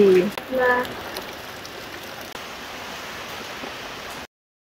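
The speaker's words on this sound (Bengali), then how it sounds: "বাইরে কিন্তু অনেক বেশি বৃষ্টি হচ্ছে" Heavy rain pours outside a home in rural Barisal, a dense, even hiss that holds steady throughout, with a brief voice at the very start before it cuts off.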